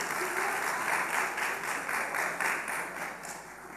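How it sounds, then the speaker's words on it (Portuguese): A church congregation applauds, with a steady wash of clapping from many hands at moderate distance that tapers slightly toward the end. "Uma salva de palmas."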